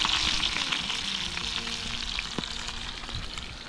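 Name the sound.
trout frying in a pan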